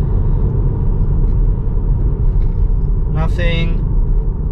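Tesla Model 3 climbing a hill with steady low road rumble and tyre noise throughout, a brief higher-pitched chirp partway through, and no engine roar.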